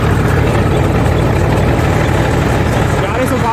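An Eicher 333 tractor engine runs steadily at about 1200 RPM, powering a thresher through its PTO shaft, a continuous low, loud drone with no breaks.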